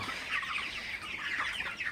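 Broiler chickens cluck in a dense, continuous chorus of many overlapping birds, heard at night at moderate distance and fairly quiet.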